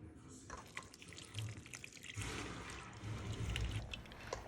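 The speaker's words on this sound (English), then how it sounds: "Keep giving the mix a nice squeeze as you pour and strain." A soap nut shampoo mix is squeezed and strained, with a steady watery pour and splash that grows fuller in the second half, no voices over it.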